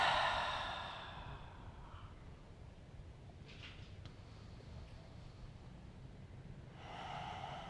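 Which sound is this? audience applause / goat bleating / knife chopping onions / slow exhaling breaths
slow exhaling breaths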